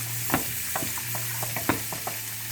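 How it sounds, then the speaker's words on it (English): Diced red sweet onion sautéing in a pan: a steady close sizzle under a low hum, punctuated by several sharp scraping clicks of a utensil stirring and pushing the pieces around. "I've diced up a half a cup of red sweet onion. Saute this up for a couple minutes."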